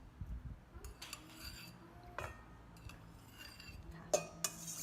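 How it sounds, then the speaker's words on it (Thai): Spoon clinking and scraping in a small bowl while stirring a soy sauce mixture with boiled water for steamed tilapia, light taps and metallic clinks scattered over a few seconds, close and fairly quiet. "แล้วก็คนให้เข้ากัน"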